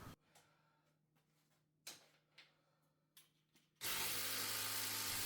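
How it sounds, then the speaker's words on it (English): A hand ratchet tightens the top strut mount bolts on a budget used car, making a few sparse, faint clicking bursts over a quiet hum before a loud, steady broadband noise takes over near the end. "I'm going to use the ratchet so I can feel how tight they are"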